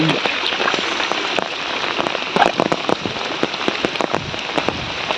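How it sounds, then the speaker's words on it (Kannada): Heavy rain pours down outdoors in coastal Karnataka, a dense, loud, continuous hiss with sharp drop impacts on nearby surfaces, and no voice over it. "ബർസല ജോർ ബറന്നുണ്ട്"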